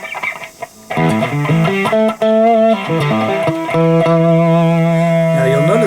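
A fake Korean-made 7V Jem electric guitar with a Cruiser pickup plays a quick run of bright single notes through a clean amp tone with no effects, ending on sustained ringing notes, loud and close.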